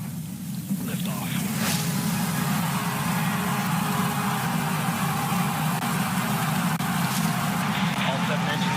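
Seven Blue Origin rocket engines roar at full thrust during liftoff on a moon gravity test launch, a dense continuous rumble that stays loud and steady throughout, with launch control voices over it.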